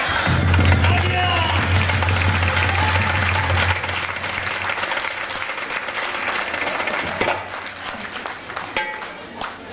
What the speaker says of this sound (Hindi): तो एक बार और जोर से तालियां प्लीज फॉर रवि जी